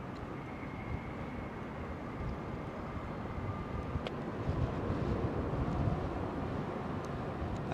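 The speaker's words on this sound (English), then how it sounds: "I think that's an Air Canada 777 heading for Toronto that we're hearing firing up there." Air Canada Boeing 777 engines spooling up on the ground at London Heathrow, a faint, distant low rumble with a thin steady whine, building slightly toward the end.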